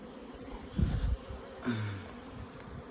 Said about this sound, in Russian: Ох, как же классно слушать вот это вот гул после холодов.